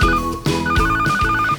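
A telephone rings for an emergency call in a children's Robocar Poli story: a repeating electronic ring sounds in close, loud bursts over a steady rhythmic tone, with no talk.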